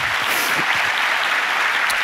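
Steady applause from a church congregation fills the whole stretch, a dense wash of clapping at even loudness with no voices standing out.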